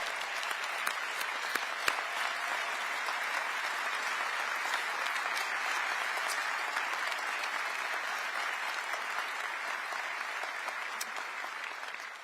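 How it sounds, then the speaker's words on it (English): Sustained applause from a large audience at a city State of the City address honoring a police officer, a steady wash of clapping with occasional sharper claps, moderately distant, lasting throughout. "Let's give Officer Maurice Chandler a round of applause"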